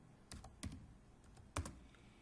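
Typing on a computer keyboard while entering a search, heard as a few quiet separated clusters of key clicks with no voice over them.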